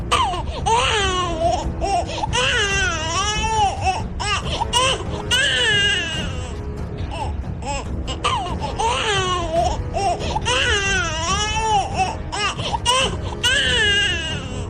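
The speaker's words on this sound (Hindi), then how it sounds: "ये बच्चे के रोने की आवाज है।" A baby cries loudly and steadily, wailing in repeated rising and falling bursts with short breaths between them.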